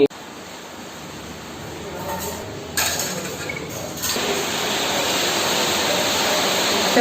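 Steady, dense hiss of heavy rainfall in a coastal village area, getting louder and fuller partway through, then holding as a constant roar.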